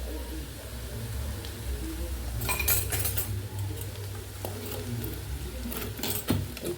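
A clay cooking pot lifted off a wood-fired stove, with clinks and scrapes of pot and utensils in short bursts over a low steady hum.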